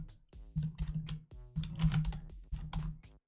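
Keys tapped on a computer keyboard in short bursts of clicks separated by brief pauses, close up and fairly quiet, with no talking.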